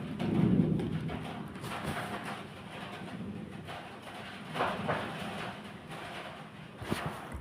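Thunder from a heavy storm during a power outage rumbles low and broad, with a stronger roll early on and softer distant rumbles after it, while rain patters underneath.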